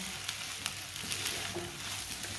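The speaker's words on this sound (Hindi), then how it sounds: "मैंने इसे 3 मिनट के लिए इसे भून लिया है चम्मच चलाते हुए" Carrots and cabbage frying in a pan with spices while being stirred with a spoon, a steady close sizzle with occasional light scraping clicks.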